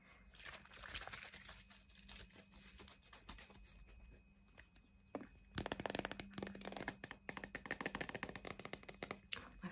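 Micellar cleansing water is foamed up by hand for face cleansing, giving soft wet squelching, patter and crackling bubbles close to the mic that grow denser and busier in the second half.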